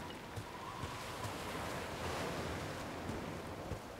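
Steady gusting wind in the fantasy role-playing game Might and Magic X, a broad, rushing noise that swells slightly and holds at a constant moderate level with nothing else over it.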